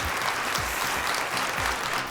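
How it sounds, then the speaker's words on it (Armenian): An audience claps for an act at the Armenia's Got Talent semi-final, a steady wash of applause throughout with no voices standing out. "Ծափարենք, Խաչ Սերոբյան"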